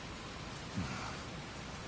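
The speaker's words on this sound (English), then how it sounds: "Seriously, Vic it's raining, man." Rain falls steadily as a broad, even hiss in Metal Gear Solid: Peace Walker, with a faint low thump partway through.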